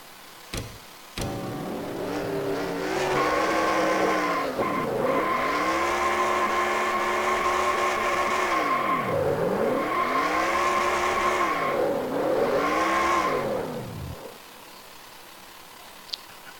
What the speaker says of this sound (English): watch these celebratory burnouts here